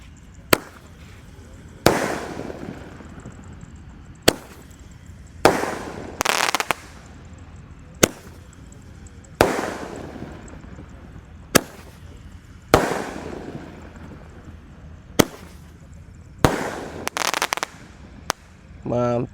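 A 0.8-inch five-shot Roman candle firework fires sharp pops and bursts in an irregular series over nearly twenty seconds, with crackling tails between the louder reports, heard outdoors at moderate distance.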